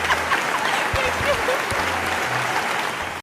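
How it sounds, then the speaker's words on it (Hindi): A burst of clapping from a small group, steady and fairly close, fading out at the end with a voice briefly audible beneath. "खुद ही अपने लिए तालियां कर लें।"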